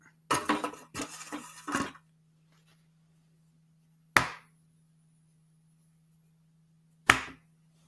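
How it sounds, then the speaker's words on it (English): An egg is cracked into a bowl, heard as a quick cluster of taps and shell crunches followed later by two isolated sharp clicks against a quiet background with a low steady hum. "Okay, so I broke 1 egg in there."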